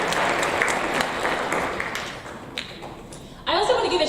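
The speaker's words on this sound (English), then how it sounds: "let's pause for a minute, just give them a round of applause" A room full of people claps steadily for undefeated teams at a sixth-grade school awards ceremony. The dense applause fills the space, thins out gradually, then surges again briefly at the end.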